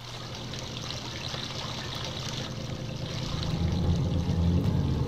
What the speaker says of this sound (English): Suddenly the water rose.